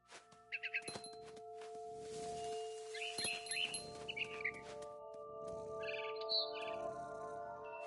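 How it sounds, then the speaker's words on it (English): A barn swallow in the video game What Remains of Edith Finch gives short bursts of high chirps in a few scattered clusters, quiet and clear over a soft sustained tonal hum. "Then I heard chirping outside my window. It was a barn swallow going back to her nest."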